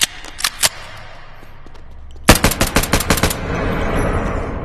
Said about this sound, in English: we're gonna test on the Glock now